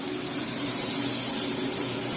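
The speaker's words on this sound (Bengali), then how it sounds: "মশলাটা পুড়ে যাচ্ছে বলে একটু জল দিয়ে দিলাম" Water poured into a pan of frying spices with turmeric, salt and chopped tomato for a chicken liver and gizzard curry, a steady rushing, hissing pour lasting throughout, close and even.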